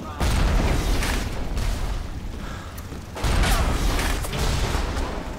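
Gun turret firing in BioShock, a loud, dense burst of rapid shots that rolls on for several seconds, surging again partway through with heavy booming low end.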